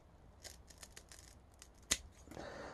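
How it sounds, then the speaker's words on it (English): Sharp scissors snip through the black nylon braid sleeve on a homemade copper speaker cable, a few soft rustles and handling clicks leading to one crisp, loud cut, then a brief rough rustle as the trimmed end is handled. "I'm just going to chop the end off nice and neatly here with some sharp"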